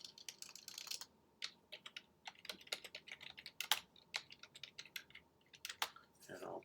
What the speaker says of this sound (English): Type the command subscribe stream